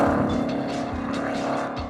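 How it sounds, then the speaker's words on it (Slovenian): A Mercedes-AMG SL53 with a powerful, loud V8 engine drones steadily at close range, with a dense engine note and faint rhythmic pulsing throughout. "pod njegovim pokrovom motorja pa se skriva izjemno zmogljiv in tudi glasen V8"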